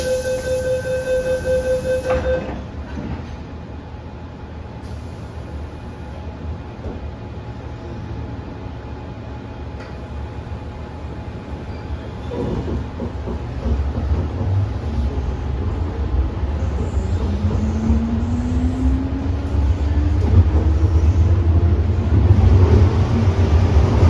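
Interior of an MTR M-train running overnight on the Tsuen Wan Line in Hong Kong: a low hum builds into a louder rolling rumble as the train gathers speed, and a rising motor whine appears near the end.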